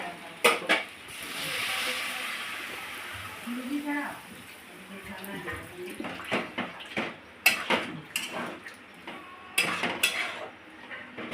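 Water poured into a pan of soya bean curry, bursts of sizzling and hissing with clattering pan and utensil knocks, irregular and close, while a person talks intermittently.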